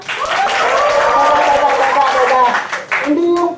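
An audience at a training seminar for new dealers claps in a lively burst, with cheering voices over the applause that thins out toward the end.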